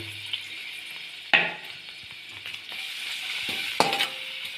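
Garlic hits hot oil in a kadhai and sizzles steadily close up, a bright hiss lasting throughout, broken by a few sharp clacks of a spoon against the pan and with no talking.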